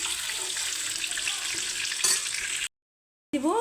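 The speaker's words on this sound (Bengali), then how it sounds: "শুকনো লঙ্কাটা একটু হালকা ভাজা করে দিয়ে দিব" Dried red chilies fry in hot oil for a tempering, a steady close sizzle with a brief stir near the end, cut by a short silent gap before the frying resumes.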